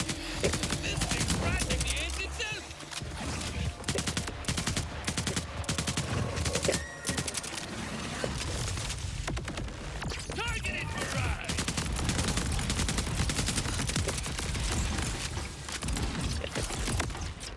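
Bombardment fire from an enemy in Borderlands 4 keeps up a dense, continuous barrage of bursts and impacts layered with game effects, loud and steady throughout, with talk mixed in at times.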